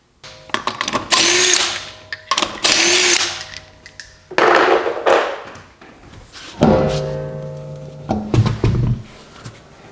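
A power tool whirs in several loud bursts of one to two seconds each, with short pauses and clunks between them, as the driver's side front wheel comes off a Chrysler 200, close by with no talking.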